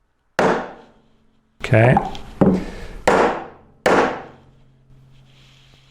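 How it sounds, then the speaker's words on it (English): Hammer tapping a wooden block to seat a jointer bearing while fitting a helical cutterhead: five sharp, separate knocks about a second apart, close and loud, with a brief spoken word between them. "So a couple taps at a time."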